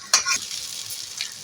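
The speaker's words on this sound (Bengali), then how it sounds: "ভালো করে মিশিয়ে নিচ্ছি।" Chowmein being tossed and stirred in a pan over a medium-low gas flame, with a couple of scraping strokes over a steady soft sizzle.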